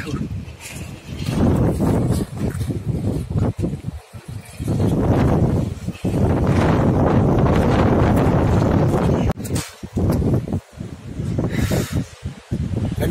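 Strong wind buffets a village rooftop in loud, sustained gusts that roar against the microphone, broken by brief lulls, with a voice talking now and then.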